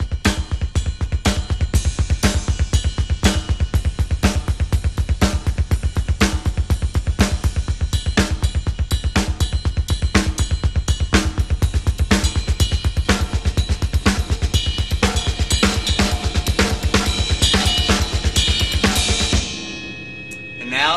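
Full drum kit grooves played over a continuous single-stroke roll: backbeats, quarter- and eighth-note cymbal patterns and paradiddle figures, loud, dense and steady for about twenty seconds before ending with a cymbal ring.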